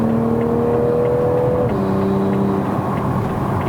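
A Toyota GR Supra A90 with a 3.0L engine downshifts while driving. Loud steady engine drone from inside the car steps down in pitch midway as the gear changes, then carries on evenly with no talking.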